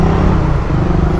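Dense road traffic on a busy street fills the air with a steady, loud rumble of engines, heard up close without pause and with no talking.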